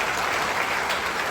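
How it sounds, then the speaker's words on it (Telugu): Audience at a DISHA-2025 event in Bangalore breaks into a big round of clapping, a dense, steady wash of applause filling the whole moment without any voices over it. "ఒకసారి అందరూ కూడా బిగ్ క్లాప్ అండి."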